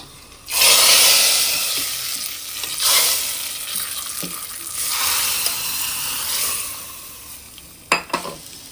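Hot tempering poured slowly into mango dal in a pot makes a loud burst of sizzling that crackles and fades in waves, ending with a couple of sharp clinks from the pan.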